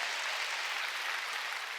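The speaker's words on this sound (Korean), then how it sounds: "박수 치려면 세게 치라니까." A church congregation applauds together during a Korean worship service, a steady, dense wash of clapping hands that stays even and fairly loud throughout, with no voices standing out.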